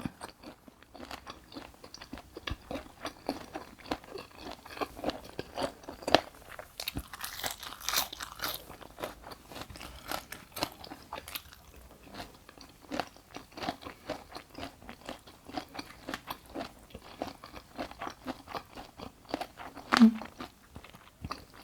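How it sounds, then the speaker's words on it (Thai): Spicy Thai chicken feet salad being chewed up close, a long run of crisp, irregular crackling bites with no talking. "มันกรุบกรุบแซบ"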